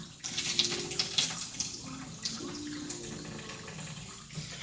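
Cold tap water running over rice as it is rinsed for burritos, a steady hiss of flowing water with soft splashes and light clatter, close and moderately quiet, with no talking.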